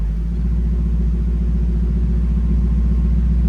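A Ford F250 truck engine idles with its exhaust running without a muffler, giving a loud, close, unbroken low rumble that holds steady throughout.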